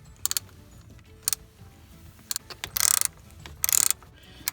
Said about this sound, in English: we still need to tighten it down with the ratchet here